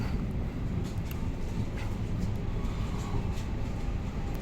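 Pasundan economy-class train at Lempuyangan station, heard as a steady, fairly quiet low rumble of a railway carriage that holds evenly throughout, with faint higher rattles and no clear talk.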